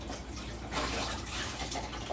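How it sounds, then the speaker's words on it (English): Running tap water rinsing a bowl, a steady, fairly quiet rushing splash that continues unbroken throughout with slight swells in intensity. "Now let me clean my bowl."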